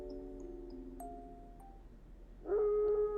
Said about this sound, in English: A howl.